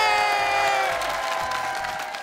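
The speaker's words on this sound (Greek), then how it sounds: "Και ένα μεγάλο χειροκρότημα για την νικήτριά μας!" A game show studio audience cheers and claps for the winner, a lively but moderate wash of crowd noise with a shout or two mixed in.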